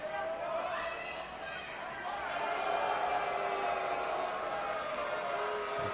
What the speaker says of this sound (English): The crowd anxiously awaiting.